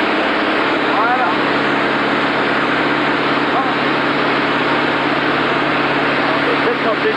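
An ultralight aircraft engine runs at a steady, constant drone in a windy outdoor setting, its hum continuous and unbroken.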